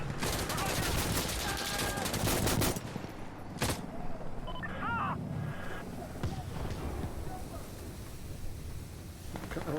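Gunfire in Insurgency Sandstorm: a dense, loud barrage of overlapping shots for the first few seconds, then a single sharp crack and scattered quieter shots, with voices talking over it.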